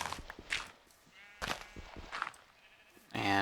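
Sheep in Minecraft let out several separate bleats, spaced apart and fairly quiet, with a louder bleat at the end.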